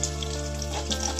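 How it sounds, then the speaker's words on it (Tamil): Small onions fry in a pan for brinjal and drumstick sambar, giving a soft, steady sizzle with a faint constant hum underneath. "நல்ல கோல்டன் ப்ரௌனா வதங்கணுங்க வெங்காயம்"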